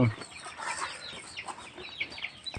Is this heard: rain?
no